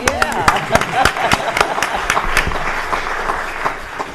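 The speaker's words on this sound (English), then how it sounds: "Give him a round of applause." A city council meeting room claps steadily, a burst of applause with sharp individual claps standing out near the start before it thins out.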